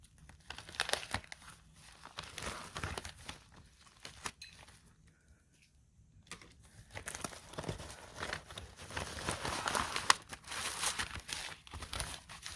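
Crinkly plastic packaging from a bead box is unwrapped close by, with faint, intermittent rustling and crumpling bursts separated by brief pauses.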